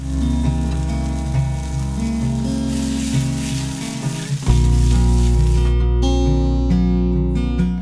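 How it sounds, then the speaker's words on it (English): Loud, continuous sizzling of a chicken-thigh sausage patty frying in a hot pan, crackling and hissing steadily with a brief dip before surging again. "You know, you guys can hear that beautiful sizzle."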